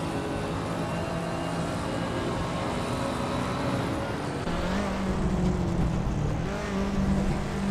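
A 1985 Lamborghini Countach LP 5000 QV races around the Cadwell Park circuit in a driving game, its engine droning loud and steady alongside rival AI cars, with the pitch shifting as it accelerates.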